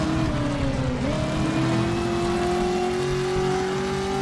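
Cars driving in the PS1 game Driver: a continuous loud engine drone with a pitch that dips briefly, then rises and holds steady, no voices.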